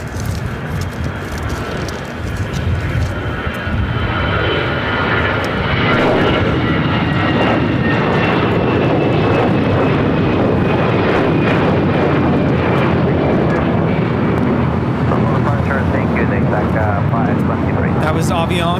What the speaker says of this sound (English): Avianca in the Star Alliance livery now taking off.